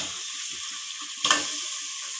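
Washed chicken pieces dropped into a hot pan of frying masala, giving a steady sizzle with a sharp, louder burst of crackling midway as the meat hits the oil, then settling back to an even hiss.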